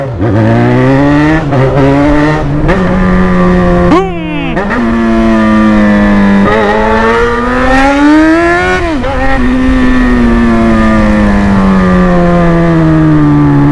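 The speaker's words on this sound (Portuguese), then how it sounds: "Uns estraladeiras do escape, né, mano?" A motorcycle engine revs loudly and repeatedly, its pitch rising and falling with sharp exhaust pops and crackles, close by and continuous throughout.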